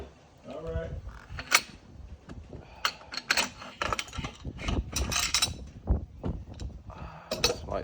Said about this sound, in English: let's adjust this out. 5 more clicks. Oh, let's do 2 clicks.